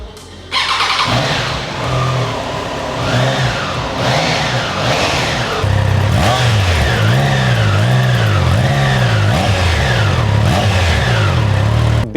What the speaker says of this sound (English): So I'll just show you how the exhaust sounds of the Trident